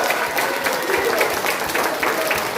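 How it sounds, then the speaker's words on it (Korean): Steady crowd applause welcoming two guests onto the stage of a live political talk show before an audience of over a hundred, continuous clapping at an even level from start to finish. "큰 박수로 두 분을 맞아주시기 바랍니다."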